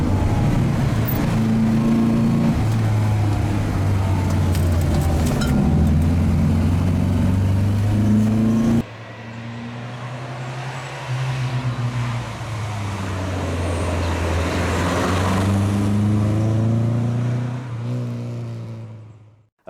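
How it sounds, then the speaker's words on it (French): A Volvo 122 rally car drives steadily under load, its engine droning loud and close with pitch rising and falling through gear changes, the sound shifting midway as if heard from a different spot. "cette Volvo, elle est juste super confortable, génial. Et il a un bon coup de volant, le Philippe, là."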